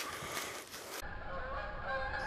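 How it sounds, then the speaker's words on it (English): Several geese honk in a steady, fairly close chorus as the flock departs, with repeated overlapping calls and no talking. "all I got for 6 hours was the sound of departing geese"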